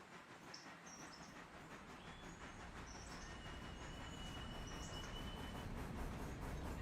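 A heavy freight train loaded with pulpwood slows on the rails in the Railroader video game, a steady low rumble with rhythmic clatter and faint high wheel squeal that grows slightly louder over time.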